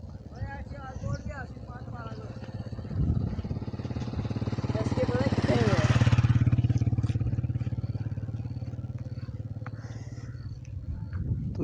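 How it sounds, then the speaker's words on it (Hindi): Motorcycles carrying two riders move through a forest, a steady engine drone swelling louder in the middle as they pass close, then easing back, with faint background voices. "यहाँ पर 2 लड़के बाइक पर घूम रहे हैं मेरे साथ इस जंगल में"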